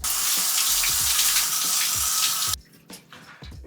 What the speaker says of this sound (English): if I try to apply water to my head right now